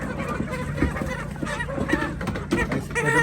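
Common chickens, not commercial machine-bred fowl, cluck in a cage, a dense nearby chorus of short clucks and calls overlapping steadily throughout.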